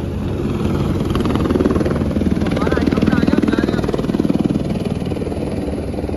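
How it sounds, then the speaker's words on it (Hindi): A helicopter at the Kedarnath helipad, its steady engine and rotor drone loud and continuous throughout, with a faint voice now and then underneath. "पापा लोगों का भी हेलीकॉप्टर आने वाला है"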